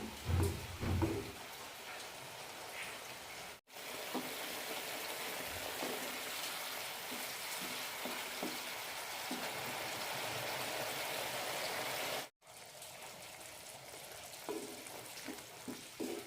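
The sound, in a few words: egg curry gravy boiling in a pan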